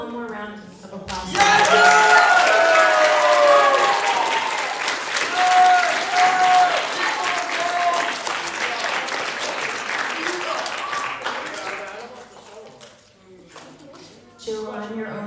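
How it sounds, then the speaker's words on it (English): Audience at a school reader's theater event breaking into loud, sustained applause with some cheering and whoops, the clapping slowly fading toward the end as a voice speaks over it. "How about one more round of applause?"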